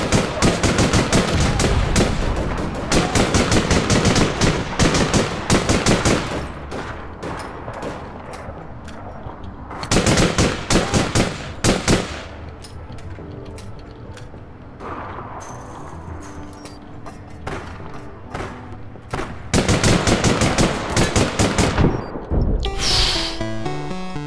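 Bursts of automatic gunfire in the APB: Reloaded video game come in dense, loud volleys around the start, the middle and the end, with music or ambience filling the quieter gaps between.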